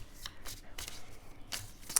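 Tarot cards shuffled by hand: several quick riffling bursts of papery flutter spaced out over a couple of seconds, close and fairly soft, with no talking.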